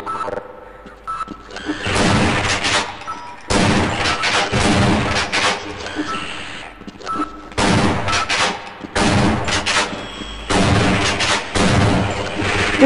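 Shotgun and weapon fire in the game Half-Life, loud repeated bursts of blasts in several clusters separated by brief quieter gaps, heavy and close with no talking over it.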